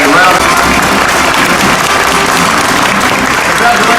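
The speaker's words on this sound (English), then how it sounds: "Let's give them a round of applause." Sustained audience applause fills a room at a company awards ceremony, dense steady clapping from a large crowd, loud and continuous throughout without a break.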